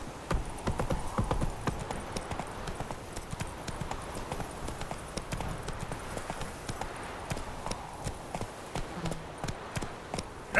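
Roach, a horse in The Witcher 3, gallops in a steady rapid clip-clop of hooves that runs throughout under a wash of game ambience.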